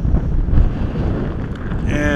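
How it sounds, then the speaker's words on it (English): Strong wind buffets the microphone high above a canyon in Yellowstone, with low, gusty rumbling and roaring that rises and falls throughout. "It is windy up here."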